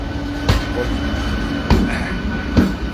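A delayed passenger train pulls out of Katwa station, its wheels thudding over rail joints in loud, widely spaced clanks over a steady rumbling roar.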